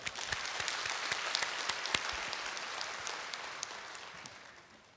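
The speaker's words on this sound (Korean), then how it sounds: "우리 박수로 맞아주세요" A church congregation claps to welcome a speaker forward, a full, even round of applause with sharp individual claps standing out, sustained throughout and gently fading.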